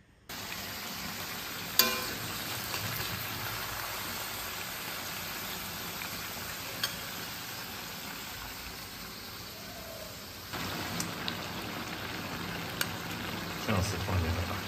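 Sweet bean paste, oyster sauce, soy sauces, soybean paste and lard sizzle steadily in a hot wok with salad oil, a continuous broadband hiss with a few sharper pops and clinks along the way.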